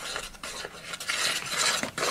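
An egg mixture being stirred round in a bowl, a close, uneven scraping and swishing with brief pauses between strokes, with no talk.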